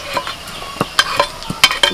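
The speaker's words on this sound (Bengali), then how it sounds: "আদা রসুনটা একটু ভাজা হলে দিয়ে দিচ্ছি লঙ্কা কুচি" Ginger and garlic fry in a pan as chopped green chili goes in, with a soft sizzle under sharp, repeated clinks and scrapes of a spatula stirring against the pan.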